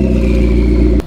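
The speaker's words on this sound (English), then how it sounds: "the sound of that FI exhaust" A deep, throaty exhaust on a Liberty Walk McLaren 650S with an FI exhaust rumbles loudly and steadily with a low burbling pulse, then cuts off abruptly after about a second.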